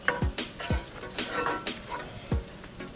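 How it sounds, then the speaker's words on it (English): Shallots and garlic sizzling in oil as it heats in a pan, a soft steady crackle broken by spoon stirring and light scraping knocks, fairly quiet and without talk. "You can hear that the shallots and the garlic is sizzling with the oil as the oil heats up."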